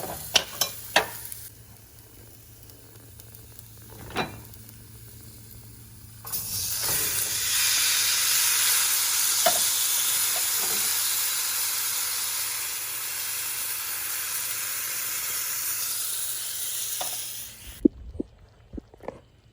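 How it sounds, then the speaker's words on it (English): A loud, steady bubbling hiss from beans boiling in a pot on the heat, with scattered clinks and knocks before and after. "As soon as it comes to a boil is when you know that the beans cooked."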